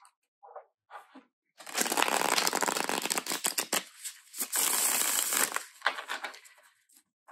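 A deck of tarot cards riffles and flutters in two long shuffles, close up, bracketed by shorter papery taps and rustles.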